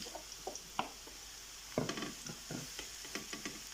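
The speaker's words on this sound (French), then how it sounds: "L'huile est chaude, donc je rajoute les champignons." Button mushrooms sizzle in hot oil in a pan, a soft steady hiss broken by close, irregular clicks and scrapes of a utensil stirring them.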